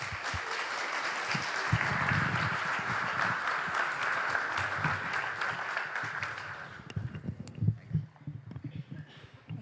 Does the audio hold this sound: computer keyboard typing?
no